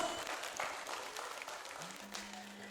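Audience applause for the judges at a televised Kannada dance competition round, a broad wash of clapping from a crowd that stays fairly steady and moderately loud for the whole stretch, with no talk over it.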